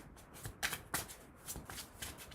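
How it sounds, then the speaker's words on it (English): Slippery tarot cards being shuffled by hand, a run of quick riffling bursts and soft flicks, close and fairly quiet, with no talk. "I like these cards, but I really fucking hate the way they shuffle"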